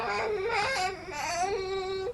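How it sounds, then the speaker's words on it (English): A baby fusses and whimpers with rising, wavering cries while being fed, close and fairly steady throughout, with no talking. "sorry about the noise. It's my daughter being fed."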